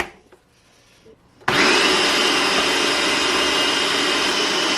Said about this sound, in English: Everything's in the food processor.